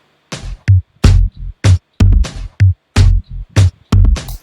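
A drum-driven beat from a music production session plays alone, with about eight punchy hits with deep low-end thumps falling in a steady rhythm, each separated by short gaps.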